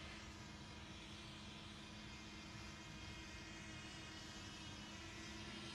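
A DJI Flip drone flies nearby, its steady whirring motor drone continuous and fairly loud throughout with no talking.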